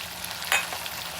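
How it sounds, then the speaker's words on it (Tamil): Tomatoes go into a pan of sautéing garlic and onion for a village-style onion garlic karakuzhambu, causing one brief, moderately loud sizzle burst over a steady low frying hiss. "கொஞ்சம் நல்லா பூண்டு வெங்காயம் வதங்கிட்டு இப்போ நம்ம தக்காளி போடுறோம்."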